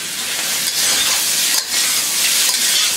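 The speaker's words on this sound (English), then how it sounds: "So put the squid in there. You have the heat on high." Squid stir-frying in a wok over high heat gives a loud, steady, bright sizzle with short bursts of stirring and brief dips, close up and alone with no talk.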